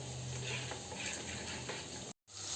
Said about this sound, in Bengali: জল দিয়ে মশলাগুলোকে ভালো করে মিক্স করলে এটা ফুলে উঠে সুন্দর, মানে ভালো করে মিক্স হয়ে যায় আর মশলাগুলো ভাজাও হয়ে যায় সুন্দর।